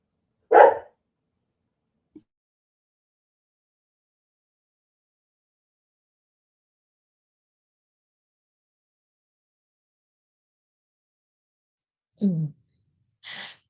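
A dog gives a single sharp bark, then long silence, then another short bark and a faint whine-like yelp near the end, close and isolated with no talking.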